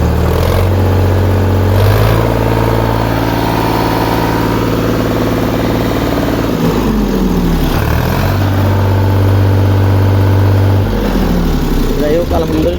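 A Sonalika tractor engine runs steadily after starting, a loud continuous low idle that swells into a couple of brief revs before settling again, with a person talking over it throughout.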